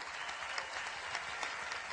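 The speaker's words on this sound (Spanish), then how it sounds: "Yo quiero un aplauso para los oficiales de nuestra Fuerza Armada Nacional Bolivariana" A large crowd applauds officers of Venezuela's Bolivarian National Armed Forces at an outdoor address by Nicolás Maduro, dense sustained clapping throughout with no pauses.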